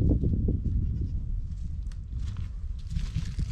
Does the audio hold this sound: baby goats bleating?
yes